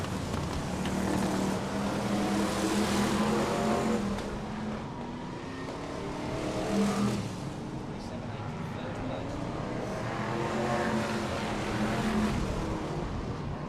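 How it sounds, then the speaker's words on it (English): BriSCA Formula 1 stock cars race around the Birmingham oval, a steady wash of engine roar with passing surges, under continuous commentary. "Bumpers going into turn 3 with Gary Tressler 154 applying the pressure"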